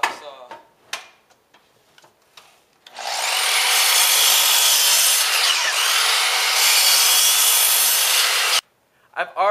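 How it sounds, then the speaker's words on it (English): A cutoff saw slices through wood for shooting bench seats, a single loud, steady cut of about six seconds after a few light handling knocks, ending abruptly with brief clatter. "then make your cuts on the cutoff saw"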